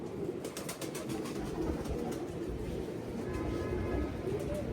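Show pigeon number 88 gives soft, low, repeated coos that run over a constant hum of background noise, nearby but faint.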